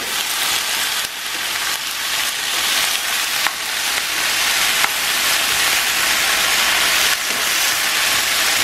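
A loud, continuous sizzle of baby spinach frying in a pan, dense hissing with a few sharp crackles and pops throughout.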